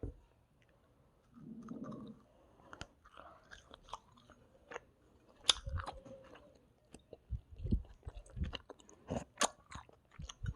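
Someone chews dried strawberry jelly from a convenience store, close to the mic, with soft irregular crunches and sticky bites, fairly quiet and without talk.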